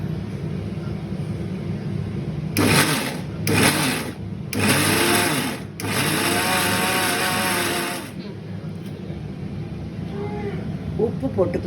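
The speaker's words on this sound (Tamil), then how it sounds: "புளி ஆறுனதும் மிக்சியில் போட்டுக்கணும்" A mixer grinder whirs loudly in several short bursts, then one longer run, while it grinds cooked tomato and tamarind for a pickle. A low background hum runs between the pulses.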